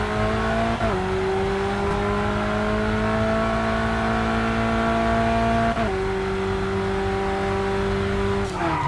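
A simulated Alfa Romeo 4C in the racing game Racing Master accelerates hard, its engine tone climbing steadily with two gear shifts that drop the pitch before it rises again, loud and continuous.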